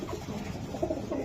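A racing pigeon at a pigeon market coos softly in low, rounded murmurs, a couple of short coos close by and fairly quiet, with no talk over it.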